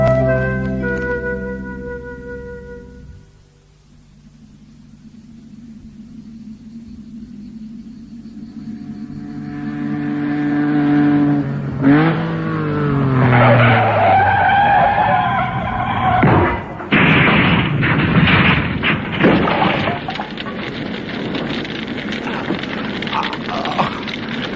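Radio-drama sound effect of a car skidding and crashing, rolling over onto its roof: an engine drone gives way to rising tyre screech and grinding, then a heavy impact and a sustained clattering, crunching rumble, loud and close.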